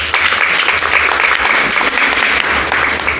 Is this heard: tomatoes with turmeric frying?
no